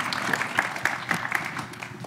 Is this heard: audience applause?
yes